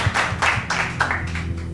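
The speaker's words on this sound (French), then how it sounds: "Et je crois que vous pouvez l'applaudir bien fort" A live audience at a hypnosis demonstration claps, with several distinct bursts of hand claps in a loose rhythm, fairly close and clear, over a low background hum.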